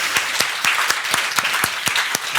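Conference audience applauding, a fairly close round of sharp individual claps over a dense steady patter, lasting a few seconds with no one speaking.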